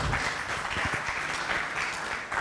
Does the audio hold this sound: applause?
yes